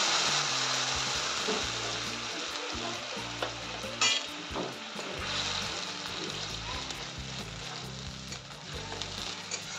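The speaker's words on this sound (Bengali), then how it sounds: "সরষের তেল দেওয়ার পরে ফোড়ন ব্যবহার করে নেব।" Spice tempering sizzles in hot mustard oil in a wok, a loud, dense crackling hiss that continues steadily throughout, with a brief stirring clatter partway.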